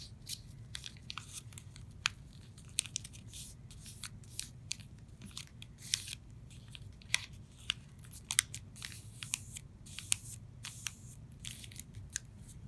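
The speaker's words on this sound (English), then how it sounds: "we're going to fold from here to here along the crease we have right there" Origami paper creased and folded by hand in a quiet room, a steady run of small crisp crinkles, snaps and scrapes, close and fairly soft, with no voices.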